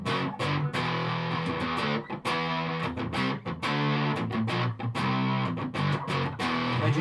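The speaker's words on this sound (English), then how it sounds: "Basically it is just a 4-stage overdrive pedal that fits in your guitar" Electric guitar played through an ARTEC QDD Quadsound four-stage overdrive preamp fitted inside the guitar, giving thick, distorted chords and riffs with sustained notes and quick choppy breaks, loud and upfront.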